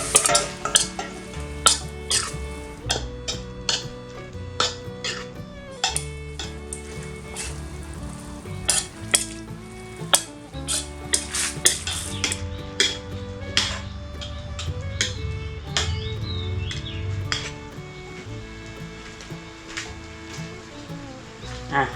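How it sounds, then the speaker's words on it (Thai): Pork stir-fried dry in a pan for a Thai curry in a rustic outdoor kitchen, with busy metallic spatula scrapes and clanks over a crackling sizzle, faint music or voices in the background throughout. "ก็จะรวนให้แห้งก่อนนะครับ"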